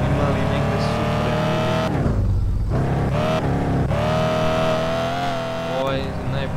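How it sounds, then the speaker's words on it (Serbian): A loud car engine in Car For Sale Simulator 2023 drones and revs continuously near the listener, with a brief deep roar and a short dip before resuming a steady high idle, while a person talks over it. "Ovo je najbučniji auto ispod."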